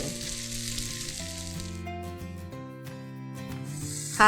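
Bacon-wrapped corn sizzles while frying in a pan, a soft continuous hiss heard under steady background music with sustained melodic tones.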